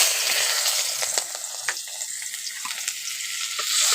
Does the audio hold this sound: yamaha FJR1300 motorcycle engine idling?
no